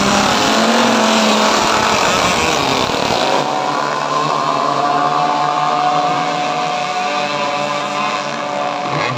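RC tunnel boats race at an outdoor event, a steady loud high-pitched engine whine with shifting tones as the boats run after the start, no talk.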